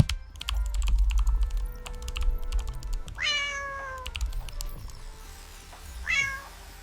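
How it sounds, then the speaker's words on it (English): A cat meows twice, a clear rising-then-falling call followed by a shorter one a few seconds later, close and distinct over light keyboard typing clicks. "the cat is moving and even making sounds"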